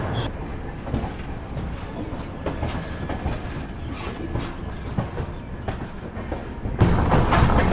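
The Bhopal Shatabdi Express pulls out of New Delhi station, its wheels clicking over rail joints in an irregular steady rhythm with a loud rushing surge at the end, heard from inside the carriage.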